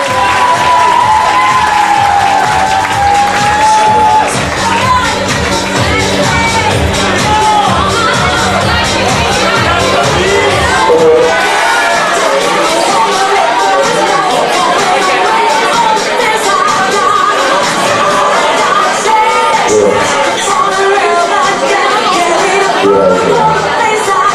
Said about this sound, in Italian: Vorrei un applauso, grazie!